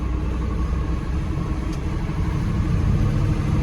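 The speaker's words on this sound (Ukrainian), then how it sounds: "тут уже комбайн он пече повним ходом" A combine harvester works at full speed through a soybean field, its engine giving off a loud, steady low rumble and drone that never lets up, with no talking over it.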